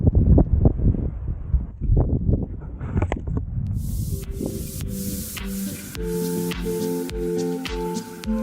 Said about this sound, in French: beaucoup de vent toujours